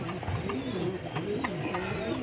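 Racing pigeons coo in a steady rolling rhythm, several birds close by, a hen and cock among them, with a few faint chirps over a continuous low murmur.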